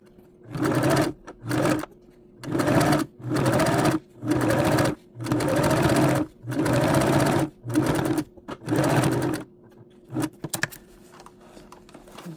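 A sewing machine stitches a fox fur headband in a series of about eight whirring bursts, each a second or so long and separated by brief pauses, close and loud, with no one speaking.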